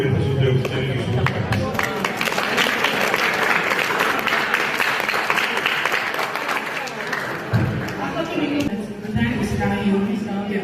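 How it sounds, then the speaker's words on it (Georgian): Sustained applause from an audience at a New Year ceremony, a dense clapping roar that runs the full length with voices mixed in. "აპლოდისმენტები"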